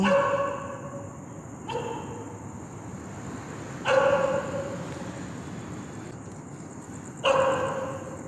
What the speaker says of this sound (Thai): มึงยังไม่เลิกเห่ากูอีกหรอ